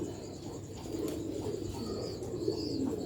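Sialkoti pigeons coo in soft, low repeated calls against a steady background murmur, with a few faint chirps and light rustles mixed in and no speech.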